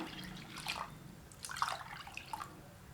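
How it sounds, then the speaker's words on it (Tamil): Water splashes and trickles into a pot of samba wheat and toor dal in a few uneven bursts, close and fairly quiet, with soft dripping between pours. "நான் இதில் நாலு கப் தண்ணி விட்டுக்கிறேங்க"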